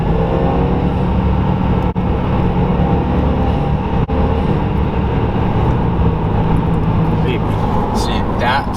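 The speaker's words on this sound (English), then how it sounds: "but you can actually hear the turbo stock." A stock turbocharged engine in a 2021 Subaru WRX drones steadily from inside the car while driving, with a loud, continuous low rumble and faint higher whine toward the end.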